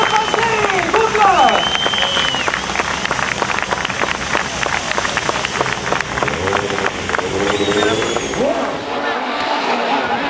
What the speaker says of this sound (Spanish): Fuerte el aplauso para Brian Bouffier, Xavier Panseri